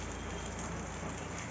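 Heavy monsoon downpour in Bengal: a steady, dense wash of rain hiss fills the whole stretch at moderate level, unbroken and with no voices.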